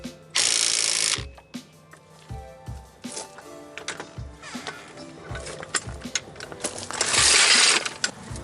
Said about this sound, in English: Now I can tighten the lower bolt.